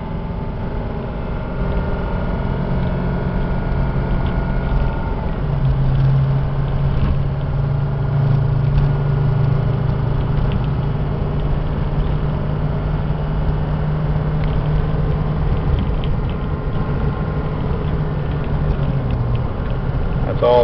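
A 2005 Ford E350 diesel box truck driving and shifting through its gears: a steady, loud engine drone with rising and falling tones under heavy wind noise, continuous throughout.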